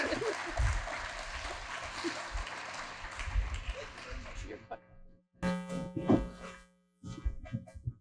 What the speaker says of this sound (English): Please give them all a round of applause as we welcome them to the stage.